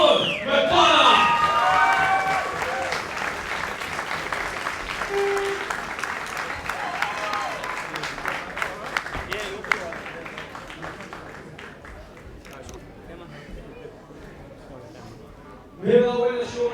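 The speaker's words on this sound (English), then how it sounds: "a big round of applause for your winner by armbar, Sean McDonagh!" A crowd at a grappling fight applauds and cheers the winner by armbar, loud sustained clapping with shouts that gradually fades, while an announcer speaks over it.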